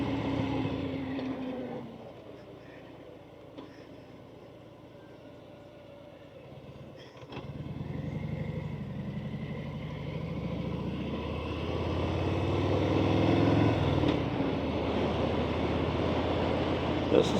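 A Harley-Davidson Softail Fat Bob motorcycle rumbles along in a steady low drone that swells louder partway through, with a voice talking over the engine noise.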